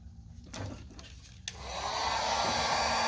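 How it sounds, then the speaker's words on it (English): A heat gun starts blowing to shrink heat-shrink tubing on wiring for a string trimmer throttle, switching on after a few clicks into a loud, steady rushing hiss held close by. "Then use your heat gun"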